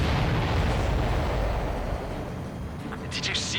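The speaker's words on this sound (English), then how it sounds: "Did you see that explosion?" A supply ship blows up in the Ace Combat 7 combat flight game, a loud, sustained rumbling blast that fills the whole stretch and slowly eases, with a brighter hiss rising near the end.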